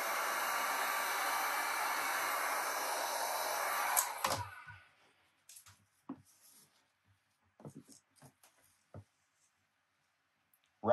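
Heat gun blowing a steady, loud hiss while warming vinyl graphic wrap on an RC boat hull, then cutting off abruptly, leaving quiet scattered rubbing and handling sounds.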